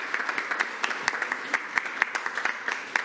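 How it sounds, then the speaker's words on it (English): Audience at a school board meeting gives a round of applause, a fairly quiet scattering of distinct claps in an irregular rhythm that carries on throughout. "Give her a round of applause"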